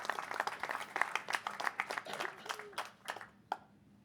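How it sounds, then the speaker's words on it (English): Scattered audience applause for a speaker invited onstage at a pitch event, individual claps clearly separated and fairly quiet, thinning out toward the end. "Let's give him a round of applause"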